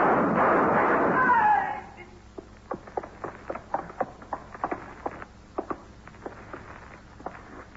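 Gunshot sound effects from a 1954 radio crime drama during a police confrontation: a loud burst at the start gives way to a rapid series of sharp, evenly spaced shots or cracks, close and distinct.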